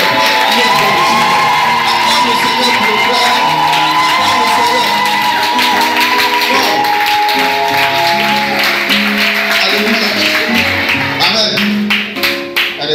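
A church congregation cheers and acclaims the Lord in a loud, sustained mass of voices, with shouts, whoops and scattered clapping rising and falling over music throughout.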